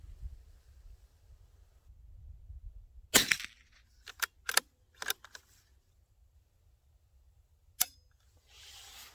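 A Ruger Precision Rimfire rifle fires during NRL22 target practice: several sharp, close cracks at irregular intervals, two or three in quick succession and another a few seconds later, over a low outdoor rumble with no talking.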